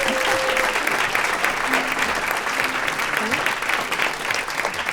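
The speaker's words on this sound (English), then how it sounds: "So a big round of applause for them." Steady, full applause from a concert audience at a Christmas concert, broad clapping and some cheering throughout, with a voice speaking briefly over it.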